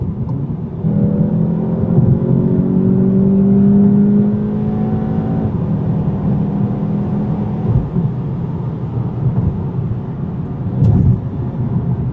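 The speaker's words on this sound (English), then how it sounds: "when you want to get on the freeway, acceleration is pretty good" A 2019 VW Golf GTI SE with a DSG gearbox accelerating hard onto a freeway, engine note rising steadily through the gears with a loud, sustained interior drone and road roar, no talking.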